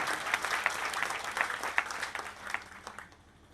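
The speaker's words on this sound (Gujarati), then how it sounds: "જોરદાર તાળી થઈ તાળામાં" An audience at a Gujarati bhajan program claps loudly, a dense stretch of many hands with sharper individual claps, fading down toward the end.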